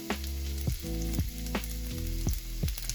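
Onions gently frying in a pan over moderate heat, a steady close sizzle with a few soft stirring knocks, no talk.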